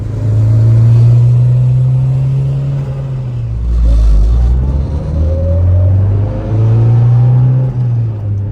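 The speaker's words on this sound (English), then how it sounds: "That turbo flutter is nuts." A right-hand-drive JDM turbo MR2 GT-S runs loud and close, its engine droning and surging through revs, with a brief turbo flutter as the throttle lifts midway before the engine climbs again.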